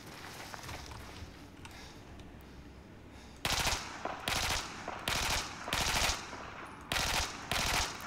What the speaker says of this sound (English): I've already shot this wall up so much.